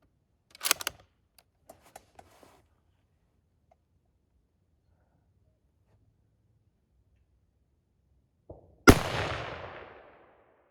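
A 7mm magnum rifle firing Remington Core-Lokt Tipped ammunition outdoors: a few faint clicks of handling, then quiet, then one loud sharp shot with a long rolling echo fading away.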